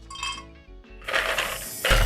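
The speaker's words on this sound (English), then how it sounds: "we're gonna add our ice cubes." Ice cubes clatter and clink as they tumble into a blender with watermelon and pineapple, a bright rattling burst that grows louder toward the end.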